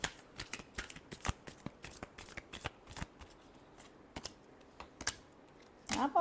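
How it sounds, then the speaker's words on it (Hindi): Tarot cards are shuffled close up in a series of sharp riffling bursts and flicks at irregular intervals, quiet in between, with a fuller riffle at the end. "Last shuffle."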